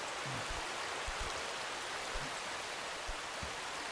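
Waterfall in the video game A Difficult Game About Climbing, a soft, continuous rushing hiss with a few faint low thuds, steady and fairly quiet throughout.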